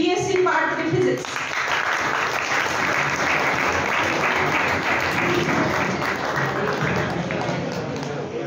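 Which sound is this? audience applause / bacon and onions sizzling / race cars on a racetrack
audience applause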